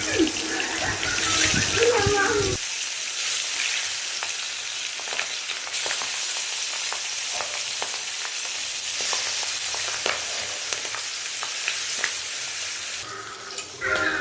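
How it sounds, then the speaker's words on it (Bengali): Pangas fish pieces frying in hot oil in a wok, a steady close sizzle and crackle that holds through the clip, with a brief wet splash near the start. "কড়াটা গরম হলে আমি তেল দিলাম এরপর এক এক করে মাছগুলো ছেড়ে দেবো"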